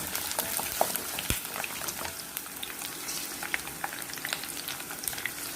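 Ginger and garlic sauté in hot oil with a soft, constant crackle and scattered pops, fairly quiet and steady throughout.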